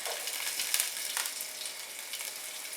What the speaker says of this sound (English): we're also going to add in the chili along with the cumin seeds